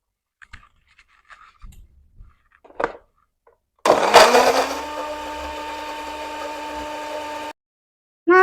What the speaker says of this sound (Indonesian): Ini bumbunya mau Bunda blender dulu.